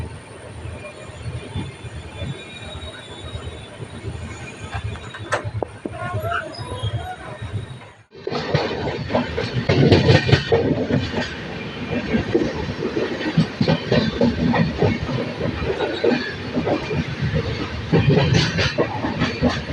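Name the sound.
Jan Shatabdi LHB train running and speeding up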